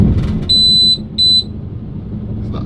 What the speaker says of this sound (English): It's the gas detector as the plug socket's coming on.